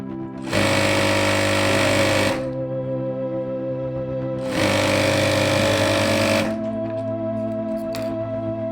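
An electric sewing machine stitching a capri, two loud, steady bursts of fast whirring stitching, each about two seconds long, separated by a lower motor hum, close up and without voices.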